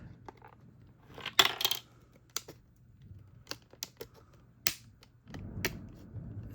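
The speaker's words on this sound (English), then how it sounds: "So I'm just gonna snip it from the side." Scissors snip through plastic packaging on a Barbie Fast Cast Clinic doll box, a few sharp crisp cuts and crinkles spaced apart, close and fairly quiet with no talking.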